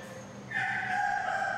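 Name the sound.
rooster crowing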